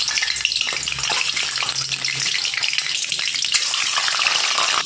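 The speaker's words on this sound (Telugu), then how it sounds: "గుడ్లు అయితే ఆయిల్లో ఫ్రై చేసుకుందాము" Boiled eggs, scored with small cuts, frying in hot oil for a restaurant-style prawn and egg gravy, giving a loud, steady, close sizzle with crackling spits and a low hum underneath, and no talking.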